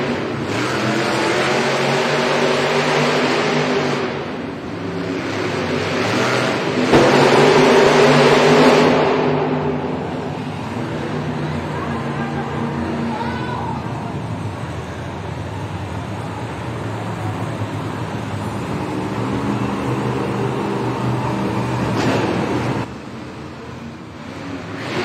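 Monster Jam trucks, including Grave Digger, roar through an arena race in Rosemont, Illinois, engines revving loud and close in rising and falling surges that drop off near the end.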